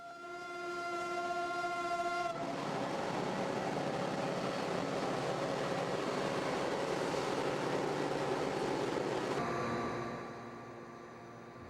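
A Missouri Pacific passenger train, the St. Louis Mule, sounds a steady chord on its horn, then rumbles and rattles past at close range with a continuous rolling roar before a second, shorter whistle tone as it eases away.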